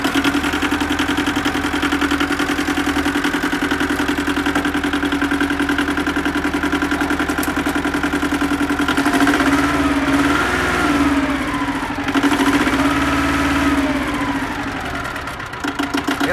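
A Yanmar 1300 tractor engine idles with a steady, rapid diesel chug at close range, its pitch wavering slightly in the second half before settling again.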